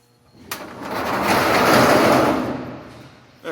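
A Clopay high-lift garage door with no opener, which has trouble staying up, rumbles and scrapes as it is moved, a broad grinding roar that starts with a sharp clack, swells and then fades over a few seconds.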